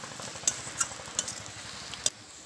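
Turmeric and chili powder frying in oil in a pan, a soft steady sizzle with a few sharp clinks of a spatula against the pan.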